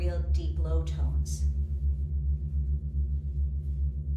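A gong struck with an F3 Fuzzbucket mallet sustains deep, low, throbbing tones that pulse steadily and linger, with a voice talking briefly over the start.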